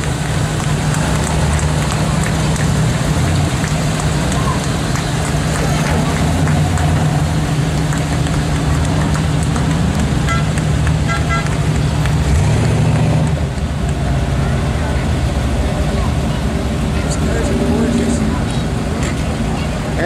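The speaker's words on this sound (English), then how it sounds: "1975 Corvette convertible." A 1975 Corvette convertible rolls by in a town bicentennial parade, its engine a low rumble buried under steady crowd noise and outdoor chatter for the whole stretch.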